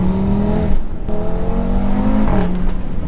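Audi RS4 B7 engine roaring loud and close while driving on a back road, with gear changes breaking the steady drone into rising revving pulls.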